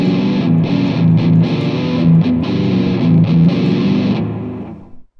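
Distorted electric guitar plays a riff with the major third, a dense, driving chugged pattern played loud and close with no voices, fading out over the last second.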